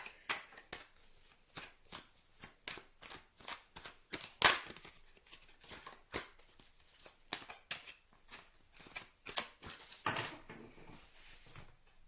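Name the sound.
tarot cards being shuffled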